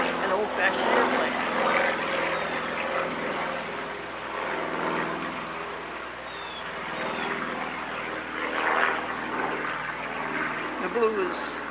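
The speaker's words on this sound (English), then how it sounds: "An old-fashioned airplane." An old-fashioned propeller airplane flies past, its engine making a steady droning hum that swells and fades, with voices partly mixed in.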